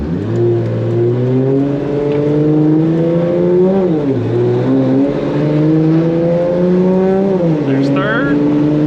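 BMW E30 with a swapped 2JZ engine and DCT gearbox accelerating from the cabin, the engine note rising steadily and dipping briefly at quick upshifts, loud and close, with a voice speaking over it.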